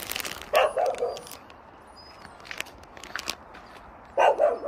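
Several dogs bark in short bursts, one of them looking like a Jindo, in a rural village lane. The barks come at a moderate distance, with one cluster near the start and another near the end, and no talk over them.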